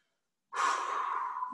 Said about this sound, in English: Let's try and slow our breathing down.